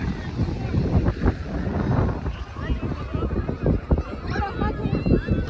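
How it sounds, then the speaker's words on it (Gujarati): Wind gusts across a beach, a rough, blustery rumble buffeting the microphone throughout, with people talking over it. "મસ્ત પવન આવે છે"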